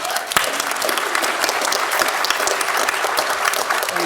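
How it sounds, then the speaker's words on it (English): Audience at a workplace neurodiversity summit session applauds, a steady, full round of many people clapping close by with no talk over it. "Can we have a round of applause for Jin Nugent"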